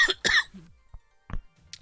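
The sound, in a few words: coughing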